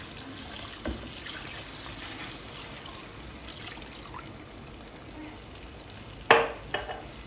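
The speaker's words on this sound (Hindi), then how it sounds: "अब इसमें 2 गिलास पानी ऐड करूँगा मैं।" A steady sizzle and hiss as two glasses of water are poured into frying beef nihari masala, with a loud metallic clink near the end.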